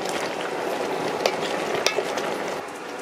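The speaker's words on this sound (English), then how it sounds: "Just stir it a little." Vegetables for pinakbet simmering in a pan are stirred, giving a steady close sizzle with a few soft scraping clicks of the utensil against the pan, no talking.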